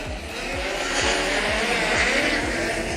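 Speedcars race at Maryborough Speedway, with engines roaring loudly and continuously and tires squealing as cars pass in quick succession, a commentator's voice faintly beneath.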